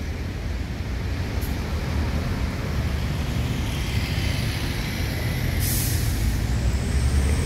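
Buses at a busy terminal let off loud air-brake hisses, with one sharp burst early and another strong release later, all over a constant rumble of idling engines and traffic.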